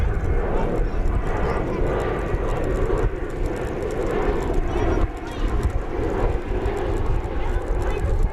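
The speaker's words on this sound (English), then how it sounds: "Looks like another E-jet making its way here" An Embraer E-jet airliner arriving at DFW Airport produces a loud, steady broadband engine roar that holds throughout, with a brief dip in the middle.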